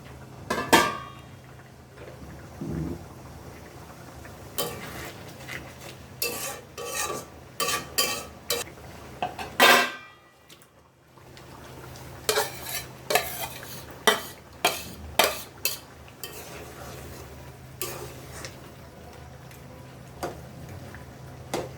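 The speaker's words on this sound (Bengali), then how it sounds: "নারকেল দুধ দেওয়ার পরে নাড়াচাড়া করে কিছুক্ষণ ঢেকে রাখতে হবে" Stirring coconut milk into cooked spice masala with prawns, a spoon scraping and clinking against the pot in short irregular strokes over a low steady simmer, close and moderately loud with a brief pause midway.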